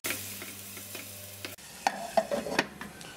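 Spices and tomatoes for a dal fry being stirred in a hot pan: scraping strokes of a spoon over a steady sizzle, growing busier and louder partway through, with no talking.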